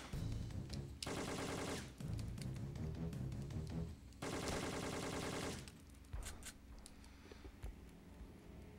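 Bursts of rapid automatic gunfire in the video game Syphon Filter 3, fired inside a cargo hold, with two long loud volleys and scattered shots after, close and dense.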